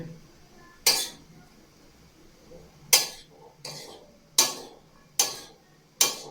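Chana chaat ingredients are mixed in a bowl, heard as six sharp, close clinks of a utensil against the dish, spaced irregularly with quiet gaps between them.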